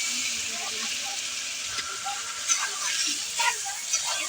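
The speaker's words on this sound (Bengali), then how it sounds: "মাছটাকে একটু কষিয়ে নেব।" A fish head fries in spiced oil, giving a steady, close sizzling hiss with small crackles, while someone talks over it.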